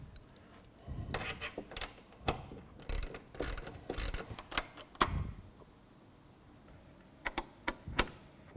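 Ratchet tightening bolts on Rockstar mud flaps, a series of sharp clicking bursts in irregular groups with short pauses between, fairly close and loud.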